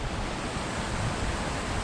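Horton Creek near Payson, Arizona flows steadily in the woods, a constant close rushing of water that stays even throughout with no voices.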